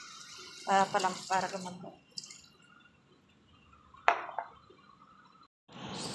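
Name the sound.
water being poured into pork dish in pan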